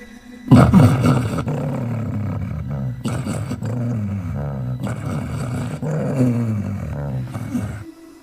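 Two dogs growling and snarling in a remote village, a low, sustained menacing rumble that swells and dips for several seconds, close and loud with no talking.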